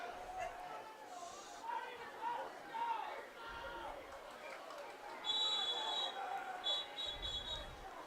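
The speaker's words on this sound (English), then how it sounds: "Whistles are blown." At a high school football game, a referee blows a couple of short, shrill whistle blasts. Crowd chatter and a commentator's voice run underneath, and the crowd noise is fairly faint.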